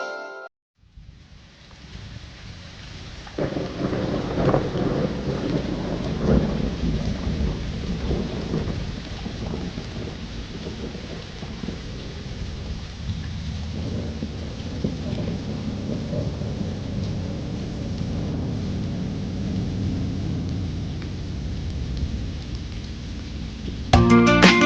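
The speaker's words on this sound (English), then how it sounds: "It's raining, it's pouring" Steady rain pours in a thunderstorm, with rolling rumbles of thunder throughout and no voices.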